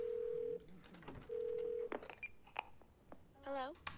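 In-game phone touch-tone dialing: two long steady dial beeps, then a run of brief key tones and a warbling ring, with a voice talking between them.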